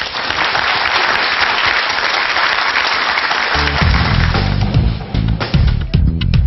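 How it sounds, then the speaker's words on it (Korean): A crowd claps loudly and steadily, and a thumping music beat comes in partway through under the applause. "큰 박수 부탁드립니다"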